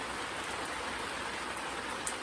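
Steady rain falls, a dense, even hiss of drops pattering on surfaces, close and continuous with no voices.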